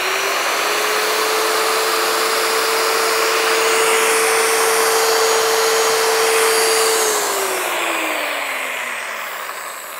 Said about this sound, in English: My drill press is not going deep enough